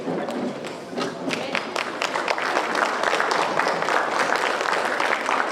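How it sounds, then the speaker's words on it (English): An audience in an auditorium at a Christmas celebration breaks into loud, sustained applause, a dense wash of many hands clapping steadily for several seconds with no pause. "Let us put up a round loud applause."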